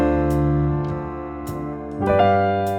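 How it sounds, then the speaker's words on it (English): Piano runs through a 2-5-1 progression voiced as seventh chords, with the left hand striking octaves over a backing track, sustained chords changing a few times with no voices. "level 2, we're gonna add those 7th chords in here"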